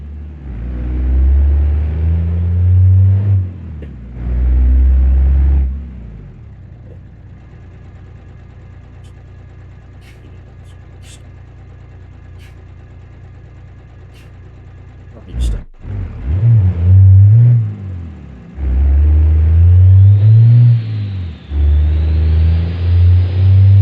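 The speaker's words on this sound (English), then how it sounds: "it's got same engine as basically a truck, but this one has a 5-speed manual, and it's 4-wheel drive" A truck engine in the BeamNG.Drive driving game, a build with a 5-speed manual and 4-wheel drive, rumbles and revs loudly in heavy bursts, drops to a quieter idle for several seconds, then surges again with repeated hard revving.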